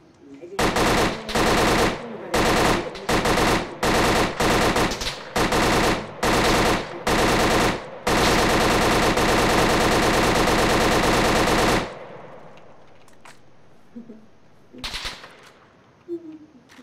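Loud bursts of automatic gunfire in a shooter video game, about ten short volleys in quick succession, then one long sustained burst before the shooting stops, leaving quieter background game noise.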